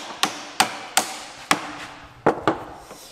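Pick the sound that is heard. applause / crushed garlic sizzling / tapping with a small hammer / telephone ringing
tapping with a small hammer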